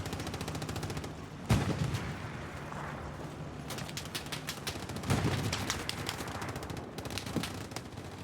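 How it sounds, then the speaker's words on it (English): Machine gun fire rattles in the World War II shooter Hell Let Loose, with sustained bursts of rapid rounds and a couple of heavier nearby impacts over a constant battlefield rumble. "Getting a lot of MG fire on my position"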